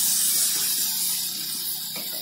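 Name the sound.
frying mustard hilsa in oil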